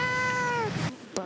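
A formerly stray cat, nervous before its first rabies vaccination, gives one loud, drawn-out meow close up, then falls quiet except for a brief final chirp.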